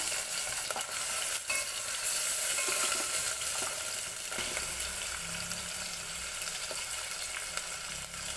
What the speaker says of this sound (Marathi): तेल तापल्यानंतर त्यात कांदा व टमॅटो घालून घ्यायचा